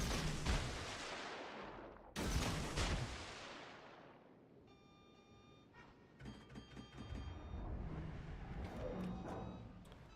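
Naval guns firing in a warship video game: two deep, loud booms with long rolling tails, then fading rumble and clattering mechanical noises as the echo dies away, no speech.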